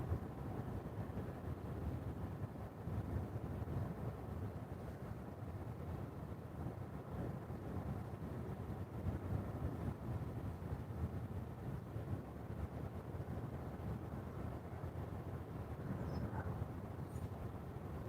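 Steady wind buffets the microphone at an outdoor carp fishing spot, a continuous low rumbling roar with no breaks and no talking.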